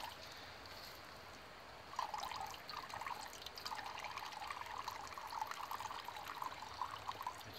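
Water drips from a Millbank filter bag into a cup: quiet, quick, irregular drips begin after a short pause and continue as a soft, steady trickle.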